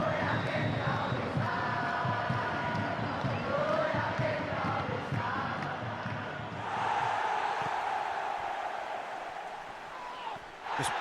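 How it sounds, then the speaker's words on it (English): Stadium crowd cheering and roaring through a football match in eFootball PES21, a dense continuous swell that surges near the end, with a commentator-style voice mixed in. "the crowd clearly like what they just saw"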